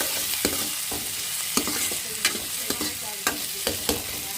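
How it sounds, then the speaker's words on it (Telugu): Tempering spices fry and sizzle in a hot pan while a spoon scrapes and stirs in irregular knocks, a steady close crackle with no voices. "కొంచెం ఫ్రై అవ్వాలి ఒక ఫిఫ్టీ పర్సెంట్ ఫ్రై అవ్వాలి"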